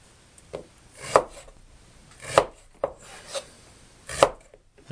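A knife slices summer squash into sections on a cutting board, about four distinct crisp chops spaced a second or so apart with softer scraping between, close and clear with no talking.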